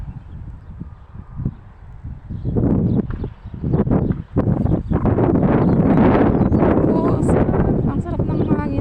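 Outdoor wind buffets the microphone in heavy, rumbling gusts that build and stay loud for most of the stretch, with quieter rustling at the start and a voice speaking beneath it.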